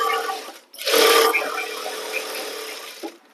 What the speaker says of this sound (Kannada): ಹಾಫ್ ಇಂಚ್ ಮಾರ್ಜಿನ್ ತಗೊಂಡು ಇದನ್ನ ಸ್ಟಿಚಿಂಗ್ ಮಾಡ್ಕೊಂಡು ಬರೋಣ